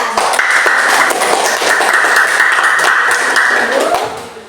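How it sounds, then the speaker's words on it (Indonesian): A school classroom claps loudly and steadily for group 1 at close range, with a sustained ringing tone running over the claps before the applause fades out at the end. "Luar biasa dari kelompok 1. Berikan tepuk tangan."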